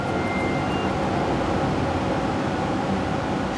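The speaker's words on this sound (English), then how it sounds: "That's the noise of all these computers working away." A dense, even whir fills a server room where many computers storing Great Britain map data run together, a broad steady hum with no breaks and no voices.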